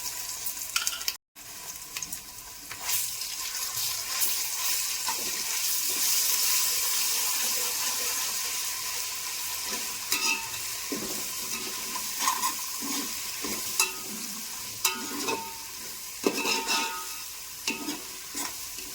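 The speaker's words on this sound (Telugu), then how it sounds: "ఇప్పుడు ఒక స్పూన్ అల్లం వెల్లుల్లి పేస్ట్ వేసుకుంటాం" Ginger garlic paste frying with browned onions in a pot for bagara rice, a continuous close hiss of sizzling oil with occasional spoon stirs and scrapes, steady and moderately loud with no talking.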